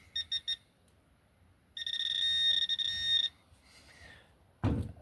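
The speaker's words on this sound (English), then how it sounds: "It runs on batteries, it vibrates, and it makes a noise. No, you're wrong. It's a metal detector." A Garrett handheld metal detector, used for checking wood before sawing, sounds a few short beeps and then a sustained steady electronic tone lasting over a second, followed by a brief thump, with no talking.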